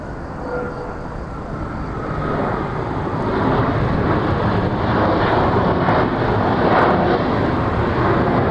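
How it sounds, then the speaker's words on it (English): A Jin Air Boeing 737 MAX 8 arriving from Fukuoka touches down at Incheon Airport in Seoul, its broad jet engine roar steady and loud throughout and swelling slightly as it passes close by. "Jin Air touching down from Fukuoka in Japan, MAX 8."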